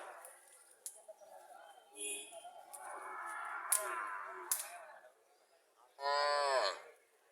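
A cow moos loudly once near the end, a long drawn-out call, after stretches of quieter background voices and noise at a cattle market in Chauara, Cumilla.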